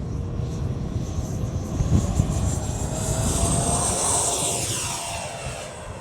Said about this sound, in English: So here we go, maiden flight of the Avanti V2.